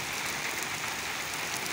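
Heavy rain pouring steadily over a village on a cold day, a dense continuous hiss of drops hitting surfaces close by with no talk.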